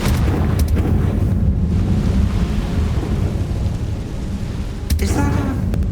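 A Confringo spell explosion in Hogwarts Legacy rumbles as a heavy, sustained roar like thunder with crackling debris, loud and close, ending with a sharper burst near the end.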